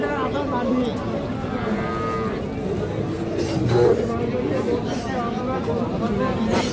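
A young bull calf moos at a busy cattle market, low drawn-out calls rising over a constant babble of people talking and bargaining nearby.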